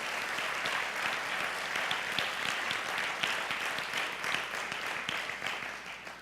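A church congregation gives loud applause in praise of Jesus, dense clapping with sharp individual claps standing out, sustained for several seconds and easing slightly toward the end.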